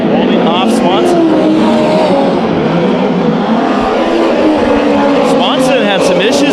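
Race cars in a heat race at Bakersfield Speedway, engines roaring loud and continuous as they circle the track, with pitch sweeping up and down as cars pass, under an announcer's commentary.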